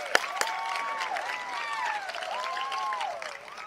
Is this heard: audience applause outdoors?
yes